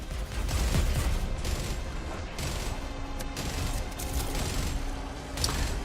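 Ship cannon firing in a video game, a dense volley of booming shots and rattling blasts that builds, eases and picks up again, loud and continuous throughout with no talking.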